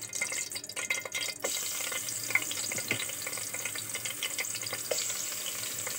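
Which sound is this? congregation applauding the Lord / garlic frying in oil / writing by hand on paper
garlic frying in oil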